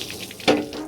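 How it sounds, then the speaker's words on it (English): Water splashes out of an old, derelict John Deere Gator utility vehicle in one short, close burst against a quiet outdoor background. "Let's just get some of this here water out of there."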